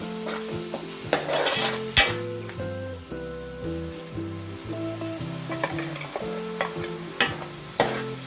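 Ginger, garlic, coconut and poppy seed paste fries in a pan for a crab curry, a steady close sizzle with spoon scrapes and clinks throughout, while quiet background music plays underneath.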